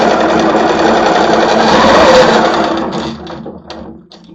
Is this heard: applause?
no